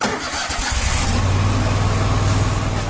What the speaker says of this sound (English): That's the sound of the Commander, Kubota's top-selling zero-turn mower.